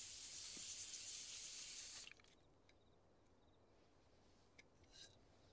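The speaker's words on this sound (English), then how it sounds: "get out the magical invisibility spray" A steady hiss of aerosol spray for about two seconds, then it stops, leaving quiet room tone with a few faint taps.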